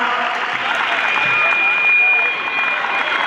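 Dense, steady applause from an audience at a school annual function, sustained and loud throughout with a faint high tone running over it.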